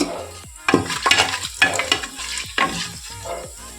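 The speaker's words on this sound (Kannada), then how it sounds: "ಇದನ್ನು ಚಟಪಟ ಆಗುತ್ತೆ" Whole garam masala spices splutter in hot oil for vegetable pulao, with bursts of sharp crackling sizzle and spoon scrapes against the pan, coming in several close, uneven pulses with no talking.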